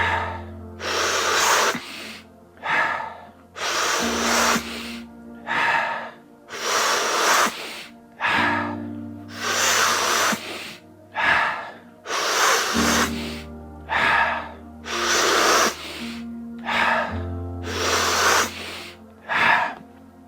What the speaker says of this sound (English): about 30 seconds more of breathing